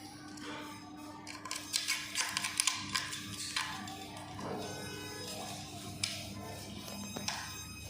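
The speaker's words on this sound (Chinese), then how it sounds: "这我们依次把这3根穿孔螺丝都穿上去。" Screws being pushed through holes while assembling a drone, a series of small, faint metallic clicks and taps close by, clustered in the first half with a few later, over a quiet room hum.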